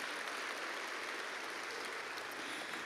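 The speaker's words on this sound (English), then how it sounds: "we can clap for that" Steady applause from a church congregation after a sermon, a faint, even wash of many hands clapping alone for a few seconds.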